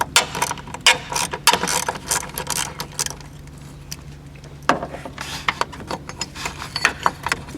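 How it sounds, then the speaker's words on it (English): A ratchet with a 10mm socket loosens a battery bracket bolt on a BMW 5 or 7 Series, giving quick bursts of close, crisp clicks separated by a short pause. "you'll need a 10mm socket for this."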